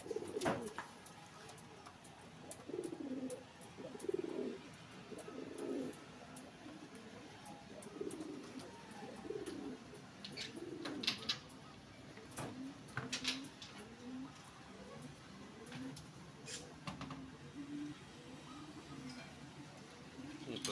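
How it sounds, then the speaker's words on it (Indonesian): A competition songbird kept by a bird-contest team calls in repeated cooing phrases throughout, faint and steady over background murmur and occasional talk. "Ini burungnya teman-teman ya."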